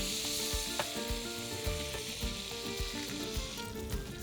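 Fish fries in a pan with lime juice, giving a dense, continuous sizzle with scattered soft pops and light scraping, close and even in level throughout.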